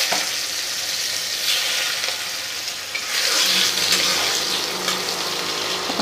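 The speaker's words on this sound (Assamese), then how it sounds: "অকণমান আলুখিনি ভাজি ল'ম" Potatoes frying in a pan for a fish curry, a loud steady sizzle that swells as they are stirred, with faint construction noise from a nearby flat in the background.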